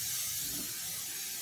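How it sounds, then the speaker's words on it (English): Cooking spray hisses onto a pan for mac and cheese, a steady close, continuous aerosol spray lasting over a second with no talk. "Lightly spray the pan."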